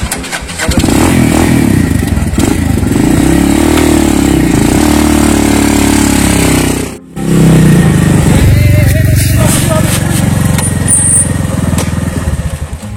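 A motorcycle engine revs hard and loud as the bike rides off, a continuous close roar with rising and falling pitch that briefly cuts out midway before surging again.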